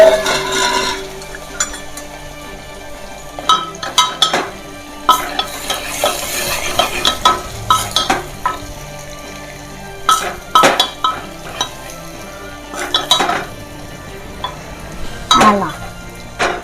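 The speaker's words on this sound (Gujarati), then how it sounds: "હવે આપણે ડુંગળી નાખી દઈશું." Onions with cumin fry in hot oil in a pan, a sizzle under repeated scraping stirs and metallic clinks of a spoon against the pot, loud and close.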